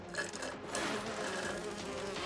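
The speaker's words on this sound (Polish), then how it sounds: "Mucha utrapiona!" Buzzing fly in the Polish-dubbed DC Super Hero Girls cartoon, a dense, steady droning buzz that runs unbroken for the whole clip, close and fairly loud.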